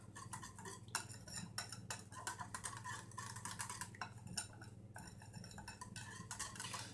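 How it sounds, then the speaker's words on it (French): A spoon stirs a cinnamon tart mixture in a bowl, producing close, irregular clinks and scrapes of metal against the dish in quick repeated bursts with no voices. "Et on mélange bien."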